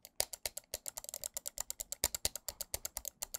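Rapid run of crisp clicks from the main and secondary buttons of a Zowie S2 gaming mouse, close and dry, dozens of sharp taps in quick irregular rhythm with no talking.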